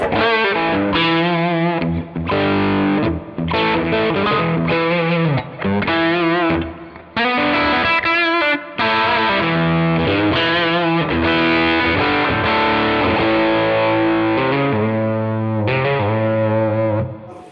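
Distorted electric guitar played through a Louis Electric Columbia Reverb tube amp built from new parts in vintage style, chords and single-note runs ringing out with slight echo, loud and continuous without talk.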